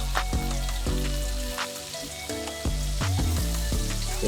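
Lamb chops fry in unsalted butter and garlic in a pan, giving a steady, close sizzle with crackles throughout. A low, tonal background hum runs beneath, and no one speaks.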